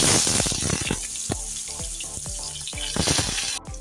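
Eggplant frying in a spoonful of mustard oil in a pan, a loud, steady sizzle with dense crackles and pops running throughout, with no voices.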